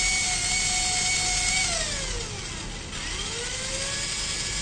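A small DC motor in a DIY accident detection and alerting system with speed control whirs steadily and fairly loud, its whine sliding down in pitch and then back up as the speed changes, with no talking.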